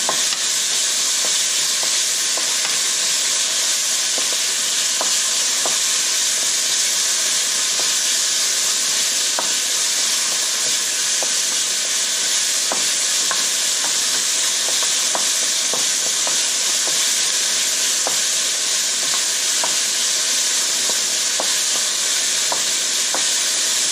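Steady loud sizzling of beef stir-frying in a hot frying pan, with occasional crackles and the scrape of stirring, no voices.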